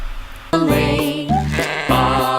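A sheep bleats loudly and close by, with a short cry followed by several wavering, drawn-out bleats in quick succession and no talking.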